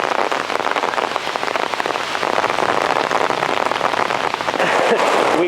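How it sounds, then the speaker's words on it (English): Steady heavy rain, with hail mixed in, drums hard on a car during a drive in a Stelvio Quadrifoglio, a dense, loud, unbroken patter with no talk. "Okay, it's raining."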